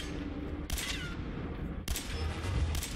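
Gunfire in Fallout 4, two sharp loud bursts of shots about a second apart with a third starting at the end, each cracking out over a low rumbling background.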